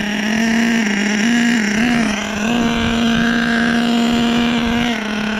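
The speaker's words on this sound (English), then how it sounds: "This might be the loudest Nitro I have." A 1/8 HPI Savage XL nitro RC truck with a K5.9 engine idles loudly and steadily up close, holding a buzzy drone that dips and rises slightly.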